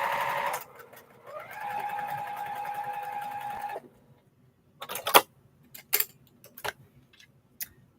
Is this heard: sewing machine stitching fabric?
yes